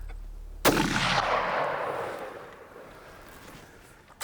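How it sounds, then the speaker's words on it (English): A single Winchester rifle shot fired while hunting outdoors, one sharp, loud crack followed by a long rolling echo that fades over several seconds. "Finally, he stops and just gives me one little window to shoot."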